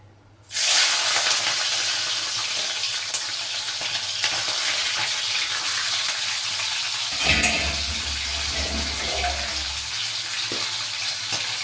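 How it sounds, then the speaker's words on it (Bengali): Prawns dropped into hot oil burst into a loud, steady sizzle that starts suddenly and keeps a continuous crackling hiss, with a brief low rumble partway through and no voices. "তেলটা গরম হয়ে গেছে, এবারে আমি মাছটা দিয়ে দেব।"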